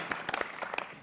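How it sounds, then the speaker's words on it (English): Light, polite golf clap from an evening audience at a live Walking Dead event, a handful of scattered soft claps over about a second, close and fairly faint. "Golf clap."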